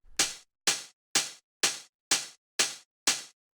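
Seven short hi-hat hits with a high-end boost and bit crushing, evenly spaced and punchy, each a bright crunchy tick with a gritty, lo-fi edge, played alone for a piano house beat.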